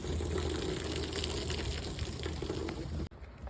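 Water overflows and runs off the edge of a Sea Ark boat in a steady, close, splashing stream that cuts off abruptly near the end.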